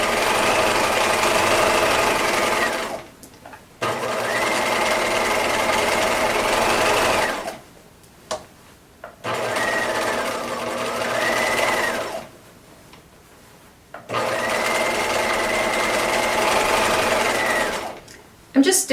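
A sewing machine stitches around a pant leg in four long rapid bursts of whirring, each several seconds long, separated by short pauses, close and clear, with some talk in between.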